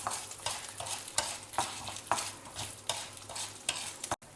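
Dal and whole dry red chilies stirred and fried in a pan, with a steady sizzle and repeated scraping strokes of the spoon at a regular rhythm, close and fairly quiet.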